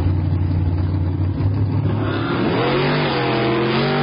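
Drag race cars launch and accelerate down the strip at Hot Rod Drag Week in Tulsa, Oklahoma, a loud sustained engine roar whose pitch climbs steeply in the second half as the cars pull away.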